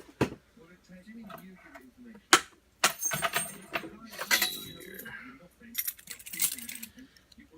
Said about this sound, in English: That's the keys